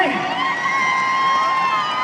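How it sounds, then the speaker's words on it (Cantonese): Concert audience applauding and cheering, a dense wash of crowd noise with whoops and tonal squeals running throughout, loud and sustained. "俾啲掌聲！"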